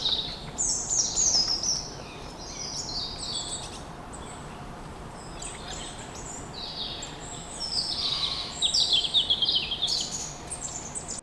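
Robin song rising and falling in bright, high phrases, with a second burst of lively chirping later, over a steady low background hum, in Shrewsbury Park woods on Shooters Hill.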